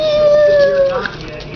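A cat meows close by in a home, one drawn-out rising and falling cry followed by a short faint second note, with a person talking over it.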